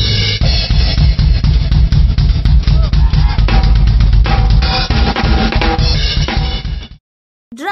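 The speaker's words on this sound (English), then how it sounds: "This is the sound of the drums." Drums played loudly and continuously with dense booming low hits and busy overlapping strikes, ending abruptly in a short silence before a brief final burst.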